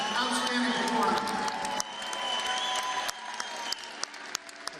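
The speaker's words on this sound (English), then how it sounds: "Folks, let's give both these round fighters a big round of applause." An arena crowd applauds and cheers after a combat sports fight, a dense wash of clapping that thins into scattered sharp claps, with a voice talking over it.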